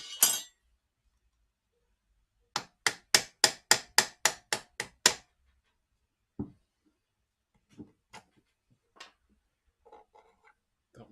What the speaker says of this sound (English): have to hammer it out.